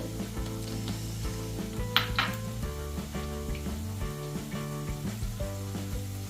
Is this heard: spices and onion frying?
yes